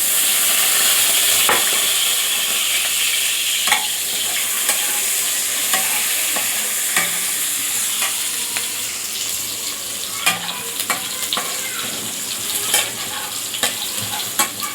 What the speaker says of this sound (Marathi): त्याच्यामध्ये आपण थोडं जिरं टाकणार आहोत, थोडं लसूण टाकणार आहोत,